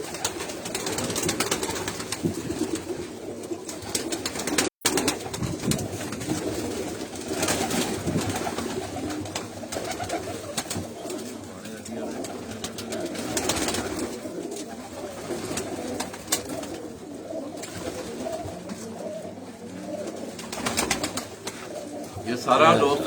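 Breeder pigeons coo in a loft at a breeding setup, a continuous murmur of low cooing that runs throughout at moderate level, with people talking faintly in the background.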